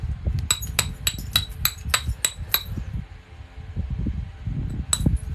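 Obsidian being knapped with a hammerstone: a quick series of sharp, bright glassy clicks and chinks, a pause, then one more strike, close up over a low constant fan-like hum.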